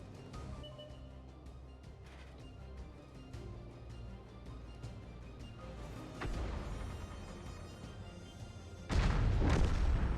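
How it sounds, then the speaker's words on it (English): A tank gun round striking a Conqueror Gun Carriage in a tank battle game, heard as a steady low rumble of battle noise that swells, then ends in a loud, close heavy boom of the impact. "Nice shot. Takes over half the hit points to the Conquer gun carriage and stuns him for a good amount of time."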